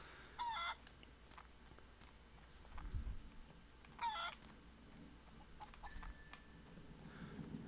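A chicken in the farm and junkyard video game Barn Finders gives a few short clucks and squawks, spaced seconds apart. A bright bell-like ping sounds alongside them, all quiet over a low game background.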